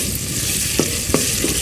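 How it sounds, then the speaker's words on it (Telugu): Ginger paste fries with onions in a pan, a close, loud sizzle broken by three quick spatula scrapes, with no talking. "1 టీ స్పూన్ అల్లం పేస్ట్ వేసి వేయించుకోవాలి"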